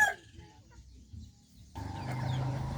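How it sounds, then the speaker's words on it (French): Chickens cluck softly and intermittently nearby while foraging in the soil against a quiet outdoor background, with a steadier ambient hum rising in the second half. "les poulets cherchent la nourriture dans le sol"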